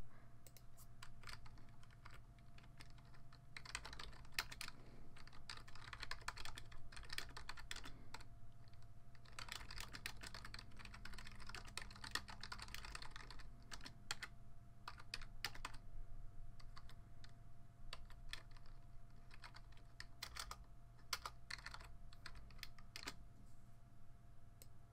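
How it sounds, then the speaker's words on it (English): Typing on a computer keyboard during a livestream: bursts of quick, fairly close key clicks that speed up and pause over a soft background hum, with no one talking. "Typing."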